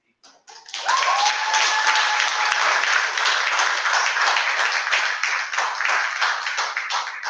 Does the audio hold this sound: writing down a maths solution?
no